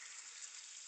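A beef roast searing in a hot pan gives off a soft, steady hiss of sizzling fat, faint and even, with no voices.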